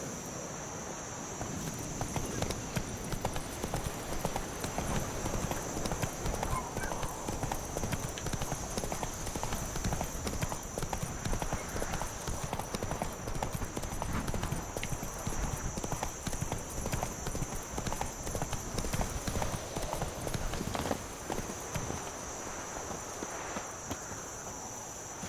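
The horse Roach walking in The Witcher 3: Wild Hunt, a steady clip-clop of hooves at an even walking pace, close and continuous over a bed of chirping insects and a faint constant high tone.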